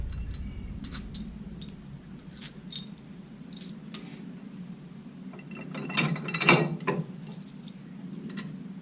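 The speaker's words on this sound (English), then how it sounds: "We got 2 bolts and they're just going to bolt on to the existing holes that's in the drawbar." Two bolts being fitted through existing holes to fix a hammerstrap onto a tractor drawbar, heard as close metallic ratcheting and clicking in short bursts with a louder clanking cluster near the end.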